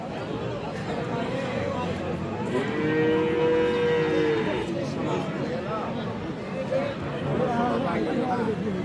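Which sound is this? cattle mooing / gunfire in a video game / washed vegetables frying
cattle mooing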